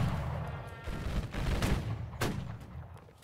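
Musket volleys crack and boom in a Civil War video game, a ragged burst of overlapping shots followed by scattered reports and rumbling echo.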